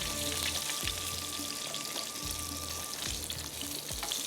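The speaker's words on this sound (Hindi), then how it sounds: "देखिए मैंने भी शैलो फ्राई किया, आप भी इसको शैलो फ्राई कर सकते हैं" Kebabs shallow-fry in a pan with a dense, steady sizzle and crackle, close and continuous, broken by a few soft knocks, with no voices.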